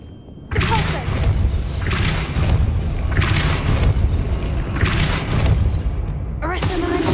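A Depulso spell is cast in a Harry Potter video game, a loud sustained burst of booming thuds and rumbling game effects that run steadily for several seconds, ending with a sharper swell near the close.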